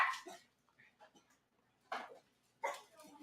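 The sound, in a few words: dog barking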